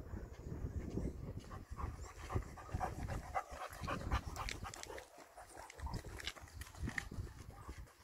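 A dog pants steadily while being walked or run for exercise during an outdoor demonstration, its breathing continuous and close amid rustling, shuffling movement and background noise.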